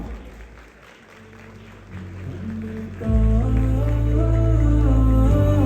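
A celebration audience claps after the first lamp is lit. Scattered clapping swells into fuller applause, mixed with loud tonal music that enters partway through.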